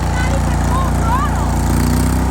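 A garden tractor engine drives along outdoors, a steady loud droning hum with regular low pulses throughout, while people talk over it.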